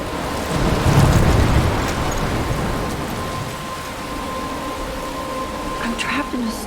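A thunderstorm in the video game Life is Strange: a deep rumble of thunder swells early, then heavy rain hisses steadily on surfaces, with faint tonal game sounds near the end.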